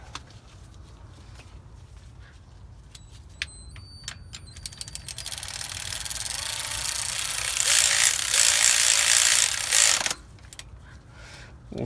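A ratchet wrench tightening a bolt on an Edelbrock 1406 carburetor on a 1974 Chevrolet C10. A quick series of clicks builds into a loud, sustained grinding rasp that cuts off abruptly.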